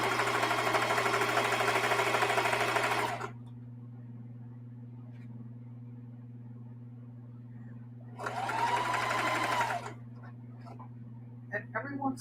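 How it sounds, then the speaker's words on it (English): A sewing machine runs edge stitching on a scrap strip quilt from the back, two loud bursts of steady whirring stitches separated by a pause, over a constant low electrical hum, with no talking. "I'm sewing the edge stitching on from the back."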